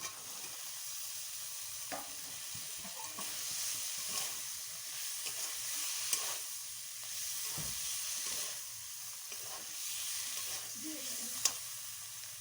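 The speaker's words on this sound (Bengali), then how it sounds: "ভালোভাবে কষানো হয়ে গেছে এবার ভেজে রাখা সজনে ডাঁটাগুলো দিয়ে দেবো" Fried drumstick pieces stirred into a cooked spice paste for sajne data chorchori, with a soft continuous sizzle under several scraping strokes of a spatula against the pan, heard close and without speech.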